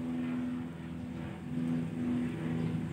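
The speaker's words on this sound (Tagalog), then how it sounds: "5-seater yata yan, Cessna plane o ano yan." A small Cessna five-seater plane passes overhead above a fishpond area behind a house in Pangasinan, its steady engine drone with tonal hum rising and falling in strength through the whole stretch, wind in the background, no talk.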